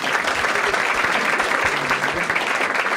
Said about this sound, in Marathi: दोघांसाठी टाळ्या वाजवा